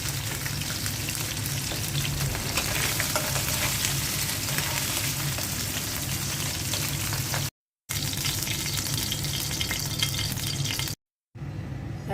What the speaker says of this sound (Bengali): পাবদা মাছটা হালকা করে ভেজে নিলাম।